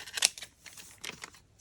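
Scissors snipping through a crinkly cellophane bag during a craft project, a few quick close cuts with light plastic rustle, short and fairly quiet.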